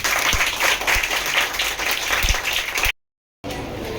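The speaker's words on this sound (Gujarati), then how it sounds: "ચલો છોકરાઓ, પોતાના માટે તાળીઓ પાડી દો." Schoolchildren in a classroom clap for themselves in a brisk, loud round of applause with a few sharp individual claps, cut by a short dead silence before the clapping resumes briefly.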